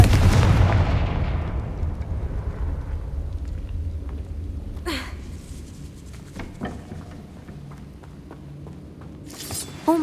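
A Confringo blasting curse explosion in the video game Hogwarts Legacy: a loud, booming blast that rumbles and fades over several seconds, with a few sharp impacts and a brief crack near the end.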